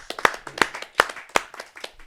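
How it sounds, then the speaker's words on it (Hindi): Audience at a Hindi poetry gathering clapping to welcome a poet to the stage, a short run of sharp, fairly evenly spaced claps close by, with no talk. "आइए जोरदार तालियों से उनका हम स्वागत करते हैं।"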